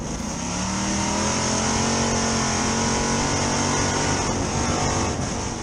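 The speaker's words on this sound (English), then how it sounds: "Riding along with Chigger on the pace laps, looking to get the green." Street stock race cars at Boomtown Speedway idle along on pace laps, their engines droning loud and close in a steady rumble that rises gently in pitch as they roll.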